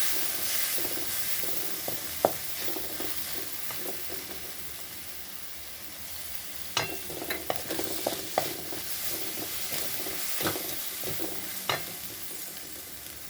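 Spice masala with chilli powder sizzles in a pan as a splash of water goes in, a steady frying hiss broken by sharp scraping stirs, alone and close with no talk.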